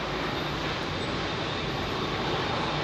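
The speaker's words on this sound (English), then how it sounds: "91C, bound for Austin, Texas, Airbus 350-1000. That's the one that just left." An Airbus A350-1000 jet departing London Heathrow runway 27R gives a loud, steady engine roar close by, broad and unbroken for the whole stretch with no voices.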